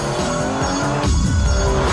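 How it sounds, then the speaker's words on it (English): Race car engine screaming at high revs, then an abrupt paddle-shift gear change partway through as the pitch drops and the engine pulls again, loud and close with no talk. "When I pull this paddle here, the clutch disengages, the cogs are swapped, and then the clutch re-engages, all in 100 milliseconds."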